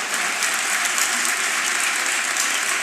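Dense, loud, sustained applause from a conference audience during a speech at an event on women's freedoms, unbroken across the whole moment with no talking over it.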